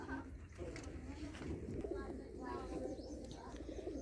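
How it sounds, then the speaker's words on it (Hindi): Pigeons coo softly in the background at a village house, over a low rumble, their calls faint and repeated. "ये कबूतर हैं सारे"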